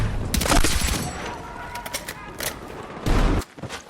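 Gunfire in the video game Battlefield 6, a rapid burst of automatic shots followed by scattered cracks and a final loud volley, mixed with game effects and some talk.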